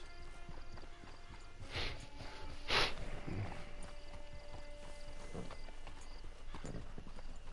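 Horse hooves clip-clop steadily at a walk in Red Dead Redemption 2 online, moderately near against a low ambient bed, with a brief snort or whinny partway through.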